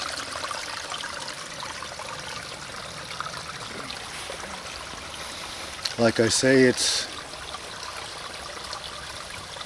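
Water trickles and flows steadily in a small stream with a low dam nearby. Someone talks briefly partway through, over the continuous wash of water.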